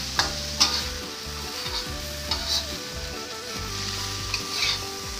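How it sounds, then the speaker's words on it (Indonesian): Bean sprouts and salted fish are stir-fried in a pan, giving a steady close sizzle with repeated scraping, clattering strokes of a spatula over several seconds and no talking. "Tumis sayur tauge dengan ikan asin,"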